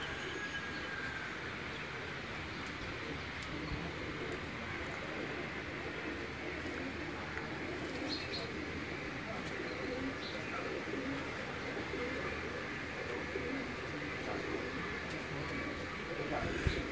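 Racing pigeons take flight from a rooftop loft, with faint cooing and soft wing flutters over a steady outdoor background hum and occasional distant voices.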